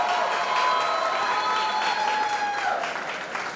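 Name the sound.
audience applause for the college principal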